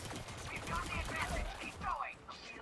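Laser weapon fire in Elite Dangerous: Odyssey, a rapid crackling burst of shots with chirpy, sweeping tones over a low rumble, continuous for a couple of seconds then trailing off.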